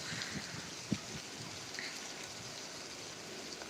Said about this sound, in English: this is gonna be a good storm. Hear the rain.